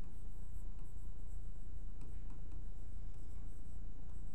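Pen strokes on paper as a quadratic equation comparison is written by hand, soft continuous scratching with a few brief accented strokes, close up over a steady background hiss, no talking.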